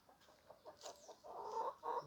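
Backyard chickens kept for a native breed flock clucking in a run of short repeated calls, then a louder, denser burst of squawky clucking near the end, close and clear.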